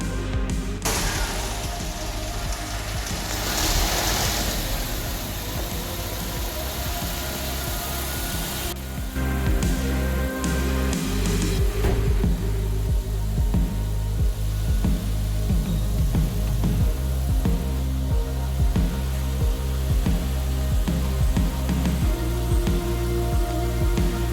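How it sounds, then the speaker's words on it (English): A car engine starts up and settles into a steady running note after a stretch of broadband mechanical noise, holding at a loud, close, constant level through the rest of the clip with no talk. "I'm going to start the car up now and just check the engine if it's sounding okay when it starts"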